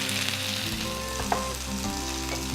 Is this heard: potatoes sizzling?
yes